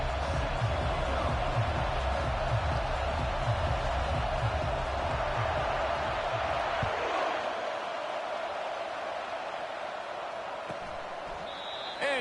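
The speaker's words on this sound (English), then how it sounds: "This crowd bringing an ear-splitting welcome to their visitors." Stadium crowd noise in an EA Sports College Football video game, a broad, steady wash of roaring fans that stays loud and full throughout, with a low rhythmic thumping underneath that fades partway through.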